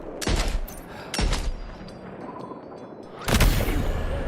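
Gunfire in the video game Death Stranding 2, three loud bursts of shots spaced about a second apart, with a heavier volley near the end over a low rumbling background.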